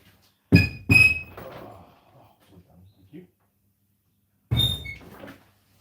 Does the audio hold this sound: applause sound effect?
no